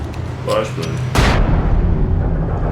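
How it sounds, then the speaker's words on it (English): A flashbang goes off in Alan Wake Remastered, a sudden loud burst that swells into a broad crackling blast and then a lingering low rumble, following a stretch of game noise with brief voice-like sounds. "Flashbang."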